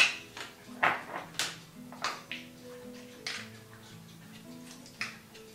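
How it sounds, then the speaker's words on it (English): A spoon clinks against a bowl while sliced raw apple with skins is stirred into yogurt with cinnamon, with a run of light, irregular taps and scrapes close by in a quiet kitchen. "I'm going to mix that together"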